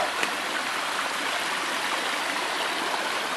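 Water pours steadily over a beaver dam on the Purgatoire River near Trinidad, Colorado, giving a continuous close rush of flowing water with no other sounds.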